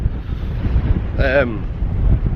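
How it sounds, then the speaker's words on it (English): Strong wind roars and buffets the microphone throughout at a wild camp on Anglesey, with a brief voice rising over the rumble midway. "Still very windy."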